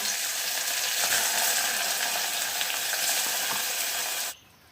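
Mutton fries in oil with an onion and coconut masala, giving a loud, close, continuous sizzle with a bright hiss. It cuts off abruptly near the end.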